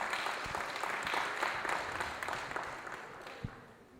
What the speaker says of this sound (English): Let's again give a big round of applause to Sravani.